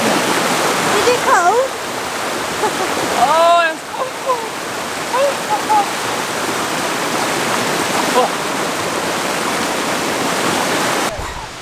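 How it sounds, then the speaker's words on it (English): Waterfall in Pai, Thailand pouring into a pool, a steady broadband rush of splashing water throughout, with excited voices and shouts briefly over it. "We're finishing the waterfall."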